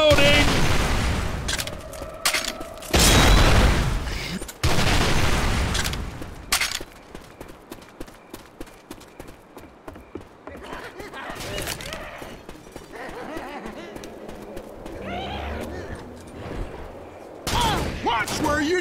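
Gunfire in Left 4 Dead 2 on the Vienna Calling map comes in loud, ragged bursts and scattered single shots, mixed with game voices calling out.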